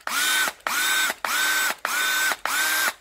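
A Makita 12V cordless screwdriver runs in five short bursts, each a steady whirring motor whine lasting about half a second, separated by brief pauses, close and loud with no talk.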